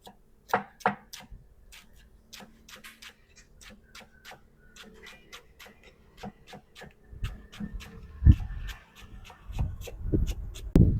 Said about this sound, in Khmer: ខ្ញុំហាន់ជីរណា